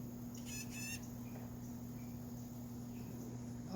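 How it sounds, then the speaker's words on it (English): A bird chirps outdoors in a herb garden, giving a short, bright burst of rapid chirps early on, then falling quiet over a steady electrical hum and faint insect-like background. "Okay, that's a bird."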